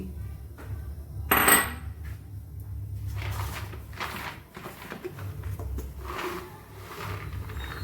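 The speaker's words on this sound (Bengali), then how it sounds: "তারপরে সাদা তিল দিচ্ছি" White sesame seeds are poured into a hot, dry pan with a sharp rattling clatter, then roast with a steady, soft crackle and low scraping rustle close by.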